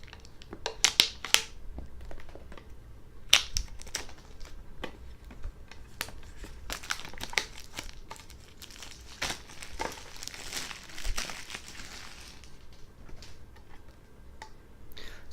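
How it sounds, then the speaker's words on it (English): Camera packaging being unboxed and unwrapped, close crinkling of plastic and paper with scattered sharp ticks and rustles, irregular and quiet throughout. "Let's unwrap it."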